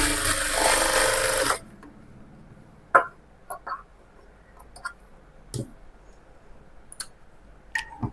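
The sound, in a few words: sewing machine stitching a blouse sleeve hem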